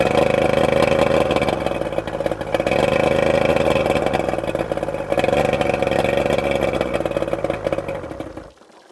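A two-stroke engine that will not stay running: a loud, close steady drone with slight wavering, then it abruptly cuts out near the end.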